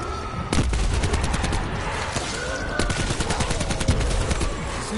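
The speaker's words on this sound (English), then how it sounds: "Grenade launcher, I think, is one shot will kill forever" Rapid bursts of gunfire from Call of Duty Black Ops 4 Zombies, including grenade launcher fire, pound loudly and steadily for the full stretch in a dense, chaotic firefight.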